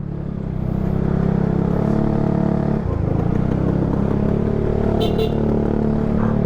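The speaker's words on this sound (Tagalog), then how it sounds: "May dadaan truck." On Santa Fe Road, a loud, steady engine roar of a passing truck fills the street, holding at a constant level with a brief dip midway and some faint high clatter near the end.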